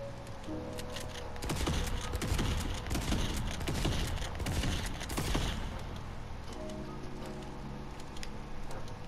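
Pellet gun in Fortnite firing a fast, dense burst of shots for several seconds, loud and crackling, then thinning out to sparser pops near the end, with no talk over it.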